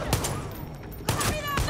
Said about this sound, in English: I'm gonna take you with my pistol.